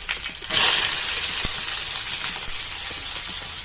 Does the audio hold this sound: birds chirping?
no